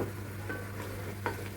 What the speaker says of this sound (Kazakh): Етіміздің осылай суы тартылып бастаған кезде пиязымызды саламыз